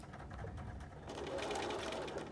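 A sewing machine back stitches a fabric mask, a close whirring mechanical run that grows louder and faster partway through, heard alone.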